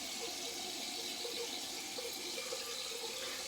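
Tap water runs steadily to rinse a freshly straight-razor-shaved head, a continuous broadband splashing hiss at close range with no speech over it.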